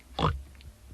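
One brief snorting oink from a cartoon pig in a children's toybox programme, close and short, over quiet background.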